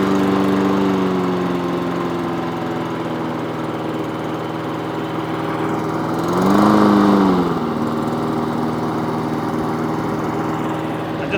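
A new engine on a Weibang lawnmower idles steadily after starting on the first pull, a close, loud, even drone whose pitch dips then rises briefly partway through before settling back.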